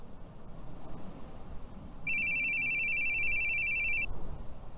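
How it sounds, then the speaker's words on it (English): A steady electronic phone ringtone in the horror video game The Boogie Man sounds continuously for about two seconds over quiet ambient background. "Your phone's ringing."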